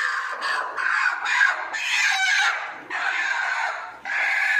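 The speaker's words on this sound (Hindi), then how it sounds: "अभी दो मुर्गियों को पकड़ लेते हैं।" Chickens on a poultry farm squawk and cluck in agitated bursts as they are caught, a close, loud flurry of overlapping calls with brief pauses between outbursts.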